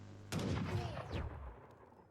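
Sniper shots from units in a 2v2 real-time strategy tournament match: one sharp report with a short decaying tail, followed by a second shot, fairly loud and with no speech over it.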